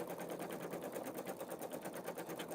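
Pfaff Creative Vision embroidery machine running a very wide satin stitch, a steady fast needle buzz with an even pulsing rhythm, close and continuous with no talking.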